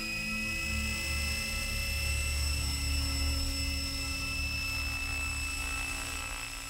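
A helicopter carrying a camera operator drones steadily overhead, with a continuous rotor thrum and a high turbine whine holding at an even level throughout. No one speaks.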